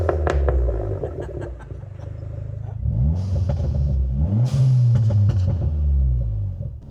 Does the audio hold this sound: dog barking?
no